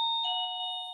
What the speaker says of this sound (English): we're going to pause for the doorbell